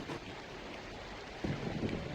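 Video game thunder from a close lightning strike: a low rumble rolls in, swelling louder partway through over a steady wash of wind and rain-like noise.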